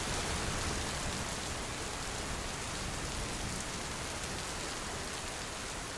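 Steady rain falls in a soft, even hiss, continuous and fairly faint, with no other sounds standing out.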